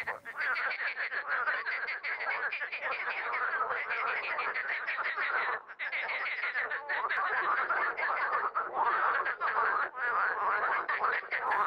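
Male green water frogs croak in a dense, continuous chorus, loud and close, with rapid overlapping pulses and only one brief dip in the racket.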